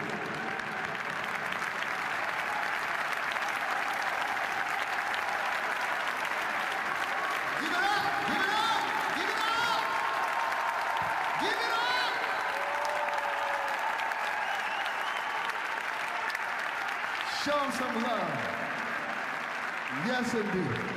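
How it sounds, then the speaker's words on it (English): Big crowd applause at a concert in Vienne, a long roaring wash of clapping and cheering, with a voice talking over it in stretches. "big applause, please."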